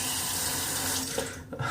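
Water runs steadily from a tap to wet a shaving brush, a dense, constant rushing stream close to the microphone that shifts slightly near the end as the brush is moved under it.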